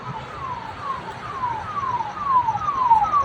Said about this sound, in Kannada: ಆಂಬುಲೆನ್ಸ್ ಹೋಗ್ತಿದೆ ಆಂಬುಲೆನ್ಸ್.